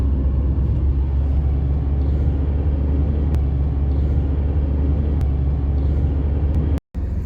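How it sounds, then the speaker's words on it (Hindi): A Tata Tiago CNG car idling with the air conditioning on, a steady low engine rumble and fan hum heard from close by, with faint ticks and a brief dropout near the end. "साइलेंट इंजन चल रहा है एसी के साथ।"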